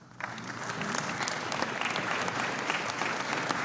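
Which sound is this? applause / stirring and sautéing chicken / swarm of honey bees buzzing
applause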